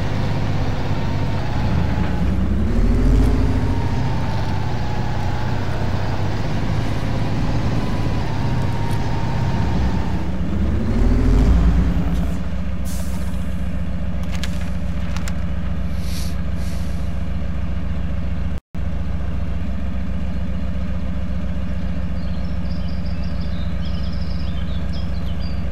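A heavy truck engine drags a trailer over rough volcanic terrain in Spin Tires: a loud, steady drone that rises and falls in pitch early on, then settles into an even, unchanging rumble.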